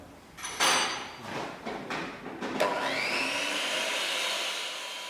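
A portable wood router machines both faces of curved rails, giving a loud, harsh whine that surges and cuts out in several short passes before settling into one steady extended run.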